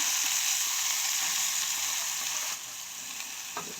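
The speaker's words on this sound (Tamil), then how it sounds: "இந்த சூட்லேயே வந்து இந்த எண்ணெய்க்கு வந்து நான் இந்த சோயா மீட்டை வந்து போட போகிறேன்" Soya meat hits hot oil in a pan for a soya curry, giving a steady, loud hiss of frying that eases slightly near the end, with a faint clink of stirring and no voices.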